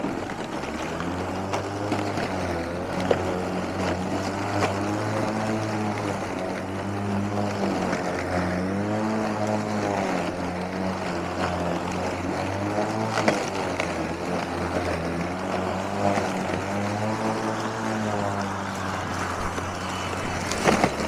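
A lawn mower cuts a seedbed low to the ground, its engine droning steadily and close by with a harmonic hum that rises and falls slightly as it moves, running alone throughout.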